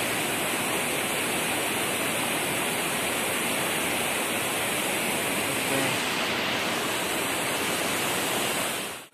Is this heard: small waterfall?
yes